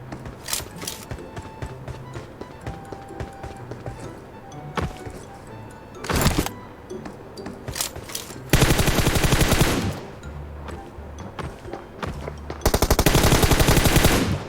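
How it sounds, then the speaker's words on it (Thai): Gunfire in the mobile shooter PUBG Mobile: loud sustained automatic bursts, one around two seconds long and another at the end, with a few scattered single shots and a quieter stretch of game sounds between them. "เดี๋ยวเราจะปีนข้างบนไปยิงคนที่เขาดักคิมอยู่ดีกว่า"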